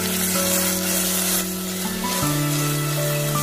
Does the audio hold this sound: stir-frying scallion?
yes